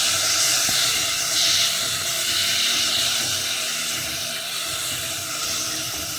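A kitchen grinder whirring steadily while blending roasted peanuts and mint into a chutney, a loud continuous hissing whir with no pauses and no voices.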